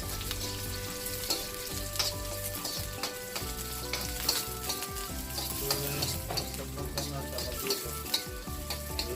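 Onion and garlic sauté in a hot pan for a steady, even sizzle with crackles, and a spoon scrapes and stirs now and then close by, with no talk.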